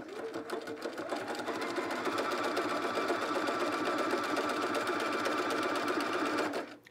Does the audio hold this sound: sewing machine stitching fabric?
yes